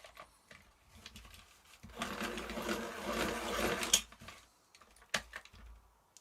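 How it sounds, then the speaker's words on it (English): Dark sepia coloured pencil being sharpened, giving a close grinding whir that builds for about two seconds in the middle, with a few quieter scrapes and clicks before and after. "Sharpen it up a little bit."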